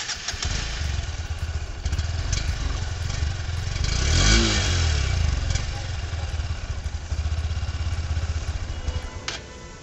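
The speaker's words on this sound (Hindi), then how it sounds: "मैं एक बार आपको एग्जॉस्ट नोट भी इसकी सुना" A 2024 Honda Hornet 2.0 motorcycle with a single-barrel exhaust idles with a close, bassy thrum, then revs up sharply in one swelling blip and settles back to a lumpy idle, with no talk over it.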